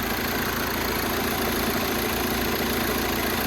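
Diesel engine idling steadily while drawing fuel through a Diesel Purge cleaning solution, a loud continuous rumble with a faint knocking texture and no pauses.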